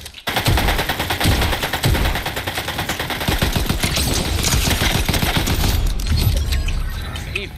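Rapid bursts of automatic gunfire from a video game fill the whole stretch, loud and close, with dense overlapping shots and brief rattling pauses near the end.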